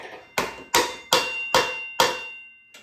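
Hammer blows knocking out a Honda Shadow front wheel part, five sharp metallic strikes at a steady rhythm about every 0.4 seconds, close and loud, with a fainter sixth tap at the end.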